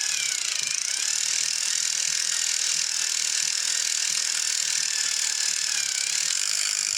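A vintage Skil 2238 battery ratchet runs with a continuous high-pitched whirring, clicking buzz up close. It holds a steady tone with slight strain and bogging as it stalls, and no one speaks.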